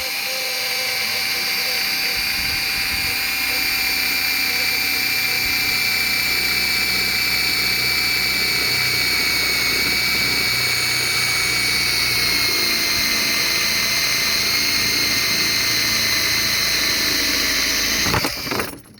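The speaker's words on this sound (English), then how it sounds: "We're going to be drilling here." A power drill with a 10mm bit bores into a GTi cylinder head, whining at a steady high pitch for about eighteen seconds before stopping abruptly, close and loud.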